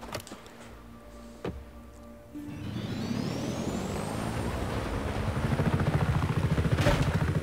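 A rotor thump builds into a steady whirring chop of a helicopter in the video game Just Cause 3, growing louder and more rhythmic, with mechanical clunks at the start.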